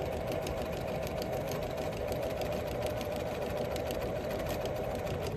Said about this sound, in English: Begin your seam where you left off and sew until all the binding is attached.